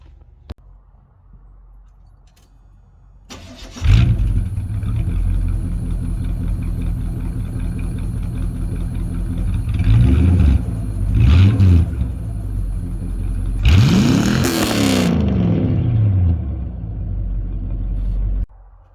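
A 1983 square body truck engine cranks and fires up, then idles with a steady, loud rumble close by, broken by a few brief revs and a stronger surge of acceleration before settling back and shutting off.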